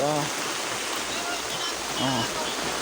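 Rainwater rushes steadily through a drainage canal, a continuous broadband wash of flowing water with faint distant voices briefly audible beneath it.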